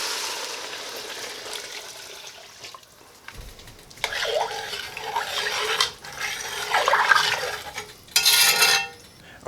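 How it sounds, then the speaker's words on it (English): Stock poured into a pan for chicken noodle soup while the browned fond is scraped from the bottom: splashing liquid and scraping in bursts, near and moderately loud, with quieter gaps. "we're going to add in our stock and start scraping up that beautiful fond on the bottom"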